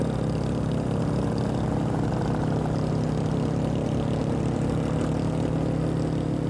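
Motorbike engine droning steadily on a mountain road during an overtaking attempt, a loud, continuous low hum with wind rush throughout, no voices heard.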